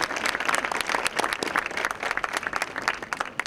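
An audience at an MA program graduation ceremony applauds in a lively burst of many hands clapping, brisk and continuous across a few seconds.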